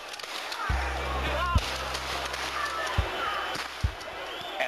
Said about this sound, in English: that's the sound of police firing shotguns with rubber bullets and bean bags into the crowd